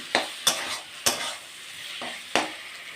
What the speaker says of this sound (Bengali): জিরে আদা দিয়ে আমি একটু কষে নিয়েছি।